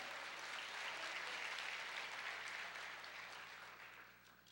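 A church congregation applauds steadily and loudly throughout, the clapping gradually thinning and fading toward the end, with no speech over it.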